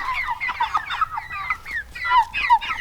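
Cornish cross meat chickens cluck and chatter close by in a busy, overlapping stream of short calls, with a low rumble underneath.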